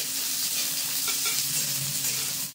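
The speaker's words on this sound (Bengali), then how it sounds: "এই মশলাটা একটু সুন্দর করে ভেজে নেব" Steady sizzling of spice paste frying in a hot pan for a catfish curry, with faint scraping of a spoon stirring, continuous and close, no voices.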